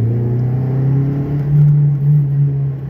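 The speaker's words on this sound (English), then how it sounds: "now I'm driving a manual car" A manual 1996 Proton Wira C99 1.8 EXi drives along, its engine giving a steady low hum that swells briefly with revving, heard from inside the cabin without talk.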